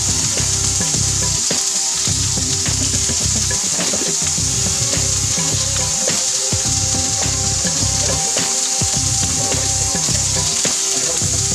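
Pimentón stirred in a sizzling pan for a Moroccan fish dish, loud steady frying with rhythmic scraping strokes of a spoon throughout, no voices.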